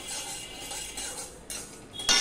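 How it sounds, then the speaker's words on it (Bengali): Peanuts, sesame seeds and mustard seeds are stirred in a hot wok with the gas off, giving light scraping and rustling with a few metallic clinks of a spoon, close and without talk. "এবার গরম কড়াইতে আমি এগুলো একটু নেড়ে নেব, তাহলে পুরো মচমচে হয়ে যাবে।"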